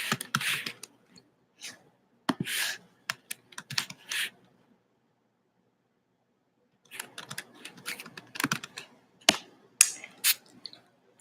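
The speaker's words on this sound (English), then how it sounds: "Hold on, let me type it." Bursts of quick clicking keystrokes on a computer keyboard come in two clusters separated by a few seconds of silence, close and fairly clear.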